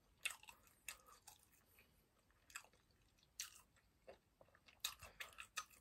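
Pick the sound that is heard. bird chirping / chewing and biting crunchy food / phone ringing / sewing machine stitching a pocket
chewing and biting crunchy food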